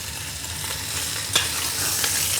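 Muntjac venison searing in hot rapeseed oil in a single pan, a constant bright hiss of frying with a faint tap or two, close and steady without speech.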